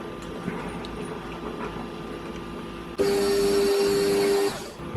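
A newly bought, higher-capacity and noisier air compressor for a mist coolant setup kicks on abruptly and runs as a loud steady hum with a droning tone, then cuts off after about a second and a half, over background shop noise.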